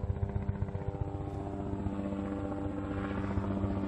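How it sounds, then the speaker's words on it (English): A police helicopter flies overhead, its steady rotor chop beating continuously and fairly loud throughout, with no talking. "That is a police helicopter."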